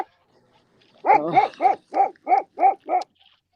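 A dog on shore barks at the water during a kayak fishing event, a run of seven evenly spaced, fairly close barks with a slightly whiny edge, starting after a second of quiet.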